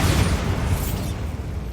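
A Bombarda spell explosion in Hogwarts Legacy sounds as a loud, dense boom that rumbles for under two seconds and then trails off, with no talking.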